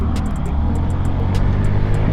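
Stock Honda Ruckus scooter engine droning steadily while riding at about 35 mph, a continuous low hum with wind rush throughout, loud and close, no talking.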